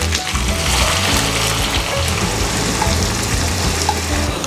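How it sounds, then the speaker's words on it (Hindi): Five medium, finely sliced onions fry in hot oil for a chicken korma, giving a loud, dense, sustained sizzle with occasional stirring knocks and a low hum beneath. No one speaks. "अब हम इसमें डालते हैं 5 मीडियम साइज़ के फाइनली स्लाइस किए हुए प्याज"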